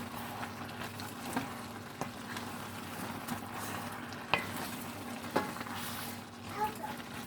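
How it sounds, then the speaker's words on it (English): Collard greens cook in a pot as a spoon stirs them, a low steady simmering sizzle punctuated by a few sharp clinks and scrapes against the pot, fairly quiet throughout. "So I'll just stir it up. Stir it and then cover it again."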